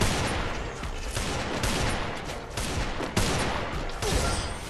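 Rapid gunfire from the mobile battle game Free Fire crackles in dense, continuous bursts, loud and busy with a few sharper shots standing out.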